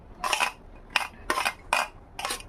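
Chopped onion, carrot and other ingredients tipped one after another into a bowl for a chicken chilla batter, giving five short clattering drops against the dish, each a brief burst of bumps and scrapes with quiet gaps between.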